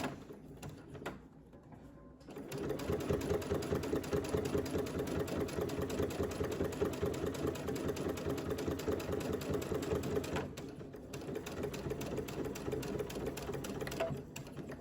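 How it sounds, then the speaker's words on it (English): A sewing machine stitching a narrow one-eighth-inch seam on a fabric Kindle sleeve, with a quiet pause before a steady fast mechanical whir. The whir runs close and even for several seconds, dips briefly, then resumes. "I'm just using the presser foot that I have attached here to doing more of like 1/8 of an inch seam right now."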